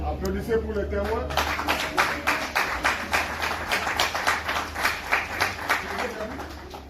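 Applause for the witnesses at a civil wedding ceremony, a brisk rhythmic clapping from a gathered crowd, steady and fairly close, with voices talking over it.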